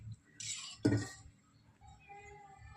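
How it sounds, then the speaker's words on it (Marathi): Metal ladle clinking against a hot kadhai (wok) while oil is poured in for tempering, a few soft scrapes and one sharper ringing clink, quiet and close. "दोन पळे तेल टाकत आहे मी"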